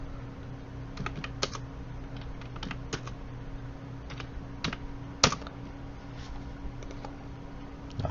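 Typing on a computer keyboard in a spreadsheet, a steady run of light, close key clicks at an uneven pace, with a few sharper, louder presses standing out, including a firm Enter keystroke, over a faint constant hum.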